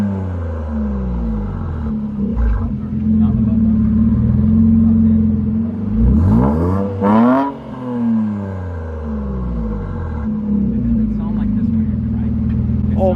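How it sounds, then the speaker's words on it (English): A car pulling up nearby at a street meet of Nissan 370Zs and a Mustang 5.0, its engine rumbling low and steady with a rising rev sweep midway, under people talking. "my boy Panda just pulled up"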